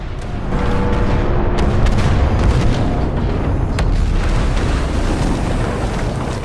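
Loud, sustained blasts and rumbling gunfire fill a battle scene in the Star Wars Battlefront 2 story campaign, with a dense, continuous roar and no talking.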